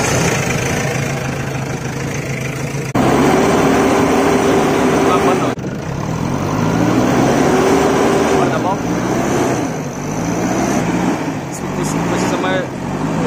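Diesel engine of a JCB 3DX backhoe loader running steadily at close range, a continuous low rumble with a few shifts in load, while people talk over it.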